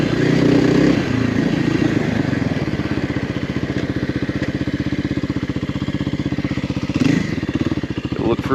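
Kawasaki KLX 300R dirt bike lugging along in first gear, its single-cylinder engine thumping in a steady loud pulse close by, with a brief swell in revs near the end.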